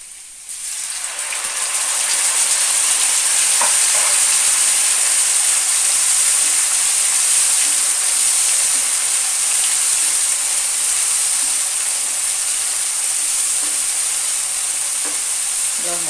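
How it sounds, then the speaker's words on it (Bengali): Ground spice paste frying with browned onions in oil, a loud continuous close sizzle that swells after a quieter start and holds steady, with faint stirring ticks. "এবার আমি বেটে রাখা মশলাটা দিয়ে দেবো।"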